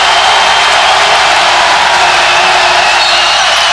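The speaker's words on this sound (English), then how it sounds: "Crowd really into it now." A basketball arena crowd roars and cheers in a loud, sustained wash of noise, dense and unbroken throughout, with faint commentary buried beneath.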